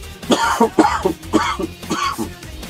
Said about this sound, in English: the infamous cough has returned on the channel